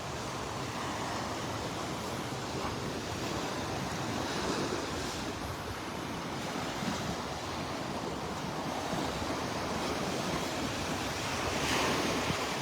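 Steady roar of surf and gusting wind on the beach at Delnor-Wiggins, continuous and broadband with waves washing in, wind buffeting the microphone, no voices.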